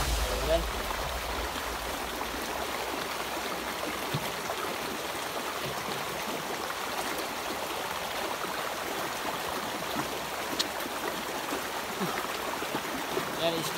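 A creek flows with a steady, dense rush of water that stays even throughout, with a voice faintly present at times.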